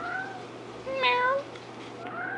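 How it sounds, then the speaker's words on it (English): A hungry house cat lets out a single drawn-out, plaintive meow close by, with fainter mewing before and after against a quiet room. "Such a sad, sad meow."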